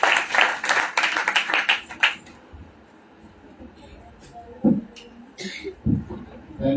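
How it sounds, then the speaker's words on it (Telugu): A church congregation at a Christmas worship service bursts into about two seconds of brisk applause, then falls to a quiet room with scattered faint sounds and some voices. "గట్టిగా చప్పట్లు కొడుతూ ఆహ్వానించాం"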